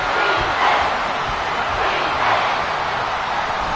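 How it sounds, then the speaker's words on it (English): A football stadium crowd roars loudly and steadily in a dense, sustained wall of cheering that swells slightly and never lets up. "This crowd turning up the decibel level"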